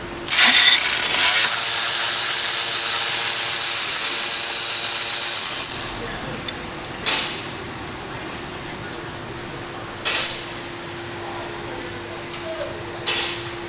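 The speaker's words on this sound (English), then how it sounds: "Using this 10 with a built-in universal." Ratchet fitted with a 10mm socket and built-in universal joint working on an oil pan of a 2015 Jetta, a loud rapid clicking run for several seconds, followed by a few isolated clicks and clunks.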